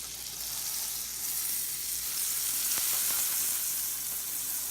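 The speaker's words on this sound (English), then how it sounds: "we are going to get some butter in here. Just listen to it sizzle." Steady, bright sizzling of butter in a hot pan, a continuous crackling hiss with a few faint pops, close by and without talk.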